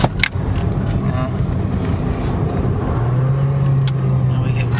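A Honda Civic engine revs to about 4,000 RPM while driving, a steady loud drone inside the car that settles into a sustained hum in the second half, with a brief knock near the start.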